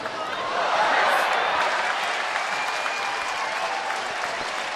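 Baseball crowd at a Washington at Baltimore game applauding a good fielding play, a broad, sustained wash of clapping from a distant stadium audience that holds steady throughout.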